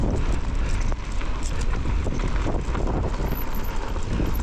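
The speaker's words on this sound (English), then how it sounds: "that wind is really picking up" Strong wind roaring across the microphone while mountain biking down a bike park trail, a constant loud buffeting rush with no letup and no talk.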